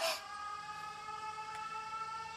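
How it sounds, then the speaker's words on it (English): Sirens sound in the video game 13 Sentinels as a faint, steady, droning tone held throughout after a brief louder onset, with no talk. "The sirens."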